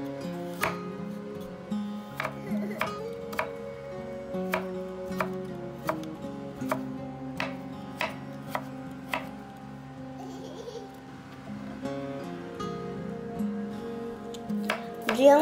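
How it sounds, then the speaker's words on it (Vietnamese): A kitchen knife cuts carrot into thin strips on a cutting board, a steady series of crisp, fairly close taps under soft background music, with no speech. "Phần cà rốt này vẫn cũng sẽ cắt sợi nhé cả nhà."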